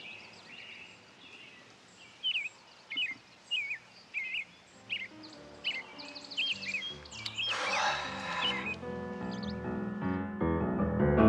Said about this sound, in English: Those birds are completely crazy.